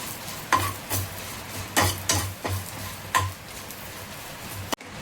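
Curry leaves and asafoetida powder fried in a pan: a steady low sizzle broken by several sharp scraping and clinking stirs of a metal spoon, ending in a brief clatter, close and without talk.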